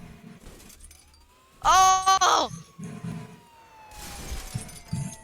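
A car slams into a police car in the Roblox game Wanted, a loud harmonic crash burst mid-clip between quieter game noise, with a brief exclamation from a player.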